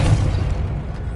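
A Confringo blasting spell explodes in the Hogwarts Legacy video game: a single loud, close boom with a deep rumble that fades quickly over about a second.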